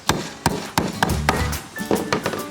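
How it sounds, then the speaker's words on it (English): Hammer blows driving nails into a wooden birdhouse, about seven or eight sharp whacks at an uneven pace, close and loud with a short ring after some strikes. "when you're using your hammer, try and hold it more down the end"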